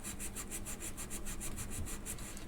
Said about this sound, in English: you can hand polish this part here